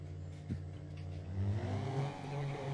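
A car engine in a GTA roleplay game revs up, its droning pitch climbing and wavering over a couple of seconds with a brief clatter near the start.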